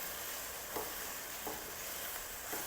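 Chicken creamy pasta with tomatoes sizzles and fries steadily in a pan, a constant hiss with faint periodic stirring scrapes and no voices.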